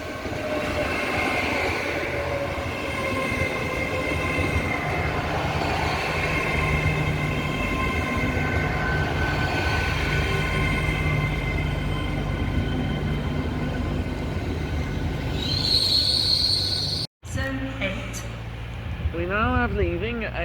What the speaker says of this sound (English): We now have leaving a cross-country service bound for Edinburgh from Plymouth